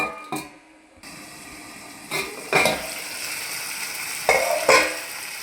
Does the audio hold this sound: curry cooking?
yes